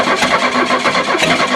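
A Buick with a throttle-body fuel system cranks and catches on a cold day, its engine churning loudly and steadily with a rough, busy mid-range roar throughout.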